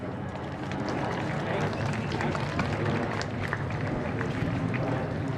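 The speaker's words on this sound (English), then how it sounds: "We can have a round of applause." Audience applause at the Ansal University convocation in Gurgaon in 2019: a dense, steady wash of clapping holds at an even level throughout, with no gaps.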